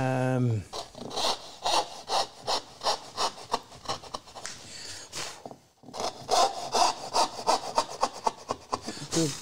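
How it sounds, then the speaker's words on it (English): Hand saw cutting dovetail pins in wood, with steady rhythmic push-pull rasping strokes, loud and close, briefly pausing midway before resuming; a short voice is heard at the very start. "I'm just going to cut the pin portion"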